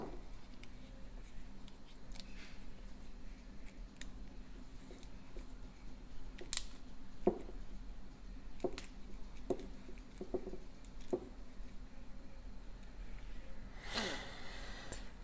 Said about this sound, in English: Now we will go ahead and start putting our body screws back in.